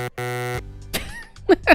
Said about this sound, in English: Was that the buzzer noise from Sonic?